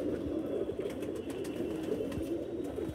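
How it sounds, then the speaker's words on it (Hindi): Rampuri pigeons coo in low, repeated soft calls close by, a steady murmur of several birds over a continuous background of flock noise. "बहुत बढ़िया रामपुरी कबूतर है भाई"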